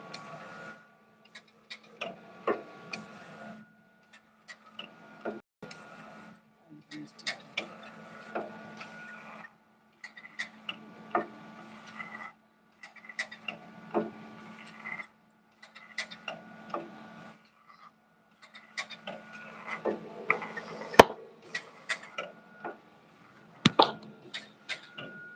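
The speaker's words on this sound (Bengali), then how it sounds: "এখন এই যে এই স্টিকার কাটা হচ্ছে" A sticker cutting machine in a lamination workshop runs with repeated clicks and short mechanical bursts in an irregular rhythm, a low steady hum underneath, and background voices now and then.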